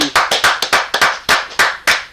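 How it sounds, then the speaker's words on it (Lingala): About a dozen loud, close hand claps come in an uneven rhythm, some quick pairs and some spaced singly, with no voices. "je suis le premier de t'applaudir"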